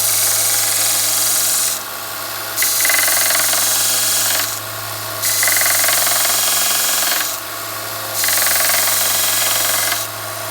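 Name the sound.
power sander sharpening a spokeshave blade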